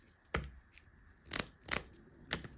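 Yu-Gi-Oh trading cards are shuffled back into a deck, heard as four sharp, close papery riffs spread across a couple of seconds, with quiet gaps between them and no talking.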